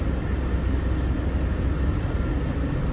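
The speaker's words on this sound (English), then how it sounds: "I think the RS eastbound was passing by." An eastbound Long Island Rail Road train passes by as an even, continuous rumble that holds at a steady level throughout, with no voices.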